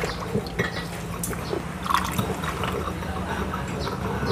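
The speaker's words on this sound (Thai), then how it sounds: "ใส่น้ำปลานิดนึงนะคะแล้วก็จะเติมน้ำ" Fish sauce and water being poured into shrimp-paste chili paste, a soft continuous trickle and splash with a few drips, fairly close.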